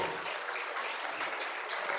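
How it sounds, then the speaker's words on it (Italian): Warm applause from a concert audience for a community wind band and its music school students, a steady dense patter of clapping heard alone at moderate level throughout. "caloroso lo voglio l'applauso, ma non per me, per loro"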